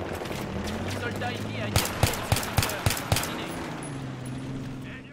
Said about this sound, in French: je fais feu 6 fois, les 3 premières balles sont des touches et la 4e est fatale.